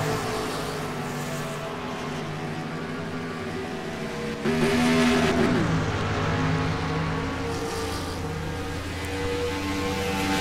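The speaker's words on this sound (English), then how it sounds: "Car here coming back out on the track off of pit lane." A race car rejoining the track from pit lane at Kansas, its engine droning steadily and then swelling louder as it passes close, under a continuous racing background.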